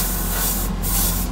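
Airbrush spraying base coat paint onto Greek style model vases, a steady continuous hiss held close and loud with no break across the whole stretch.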